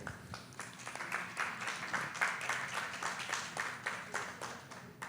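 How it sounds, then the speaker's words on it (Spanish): Audience applause for a panelist at a colloquium on racial profiling in Mexico City, a modest, fairly quiet spatter of individual claps that rises and falls throughout. "Un aplauso a Daniel, por favor."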